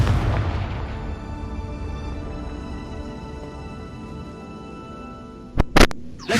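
A Confringo fire spell blasts in Hogwarts Legacy with a deep booming explosion at the start that rumbles away into a long fading tail, followed by a few sharp cracks near the end.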